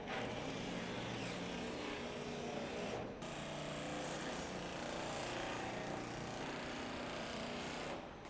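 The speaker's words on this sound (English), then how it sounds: "To cut this, we're going to use the Milwaukee nibbler, and it does a really good job of going up and over the ribs" A Milwaukee nibbler chews steadily through ribbed metal sheet, a loud continuous mechanical chatter close by with a brief dip near three seconds and another near the end.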